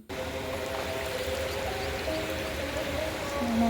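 Steady light drizzle patters on surfaces at a temple, a soft continuous hiss with faint droplets, no voices.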